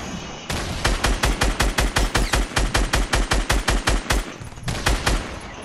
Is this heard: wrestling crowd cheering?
no